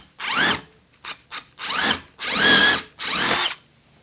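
A power drill boring holes into wood for a wall-mounted rustic wine rack shelf, with several whirring bursts of varied length, two very short, each revving up and winding down, close by.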